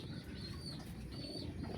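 Pigeons cooing softly in a backyard coop, low murmuring calls over a steady faint background hum, with occasional brief higher chirps.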